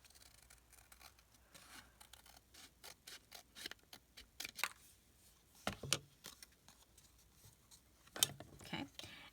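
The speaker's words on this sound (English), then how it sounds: "now let's come in with the other scissors" Scissors snip paper for a junk journal in a run of short, crisp cuts at an uneven pace, close and fairly quiet, with small handling clicks between snips.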